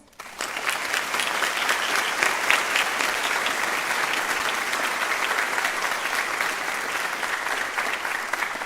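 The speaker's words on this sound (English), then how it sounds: "let's go ahead and give them a round of applause" Sustained applause from a crowd at a high school National Honor Society ceremony, starting abruptly and staying loud and even throughout.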